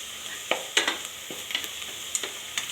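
A spoon or spatula scrapes and stirs chili powder into pulao in a pan, making soft sizzling under half a dozen sharp, irregular clinks and scrapes heard close up.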